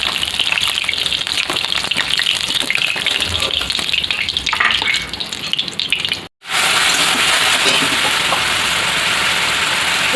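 Pieces of large snakehead fish fry in hot oil, a loud, dense, continuous crackling sizzle up close that breaks off sharply for a moment near the middle and then resumes just as strongly, no talking.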